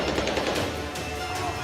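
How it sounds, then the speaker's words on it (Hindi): Gunfire during a street clash in Beirut: a rough, dense clatter of shots and crashing noise that keeps going without a break, loud and cluttered, with no clear voices over it. "गोलीबारी के साथ ही कई विस्फोट भी हुए"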